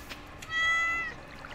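A cat in a farming video game gives a single clear meow while being petted, rising over quiet background game ambience.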